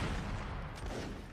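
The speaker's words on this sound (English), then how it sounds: "the cannons continue their deadly report and smoke generation" Cannon fire rumbles in a Mount & Blade: Napoleonic Wars line battle, a dense rolling barrage of booms and distant gunfire that blurs together into one continuous roar.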